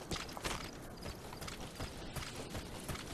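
Horse hooves in the video game Metal Gear Solid V, a busy clip-clop of rapid, close hoofbeats running steadily without speech.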